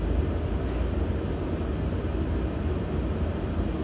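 Aircraft turbine engine starting up during fuel flow and ignition, a steady broad roar with no gaps, loud and constant throughout.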